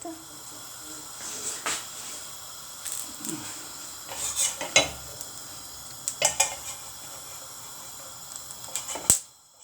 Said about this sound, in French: je vais frire les boulettes